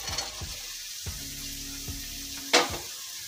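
Ridge gourd cooking in a pan, with a quiet steady sizzle under several soft scraping stirs and one sharper clatter near the end.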